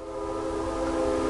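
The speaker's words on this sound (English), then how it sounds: "I don't know if you can hear the train." A train passing on nearby railroad tracks, loud and steady, with a sustained horn-like tone over a continuous low rumble, heard alone.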